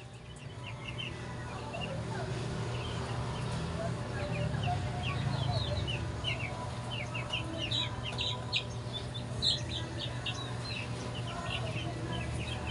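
Chickens and chicks cluck and peep softly and continuously, with scattered high chirps over a low background rumble, moderately distant.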